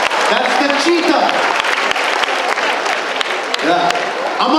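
An audience claps for a girl who answered a question about the cheetah, a dense burst of applause that holds steady at close range while a voice speaks over it near the end.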